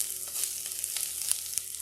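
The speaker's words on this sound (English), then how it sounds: "Here's the sizzle, y'all." Onion, tomatoes and garlic sizzle in a pan with a steady crackling hiss, dotted with sharp little pops and spits, close and moderately quiet.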